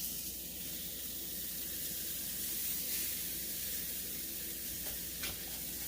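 A steak sears in a hot, greasy pan with a steady broadband sizzle and hiss. It stays close and constant throughout, with a couple of faint clicks near the end.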